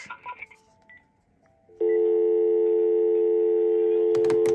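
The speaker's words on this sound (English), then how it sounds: "if I dial a number, then I can press flash," A hotel desk phone being dialed: a few short DTMF key tones at the start, a brief quiet, then a steady loud tone holding from the handset until a couple of quick beeps near the end.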